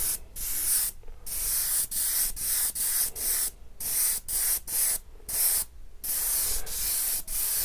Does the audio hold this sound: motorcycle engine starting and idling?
no